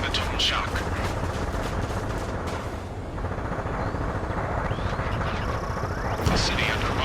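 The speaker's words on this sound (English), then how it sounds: "Gunfire and the roar of jets echoing through the streets" Gunfire crackles through a city under martial law in the Ace Combat 7 video game, with dense, rapid bursts over a low rumble and voices speaking over the din.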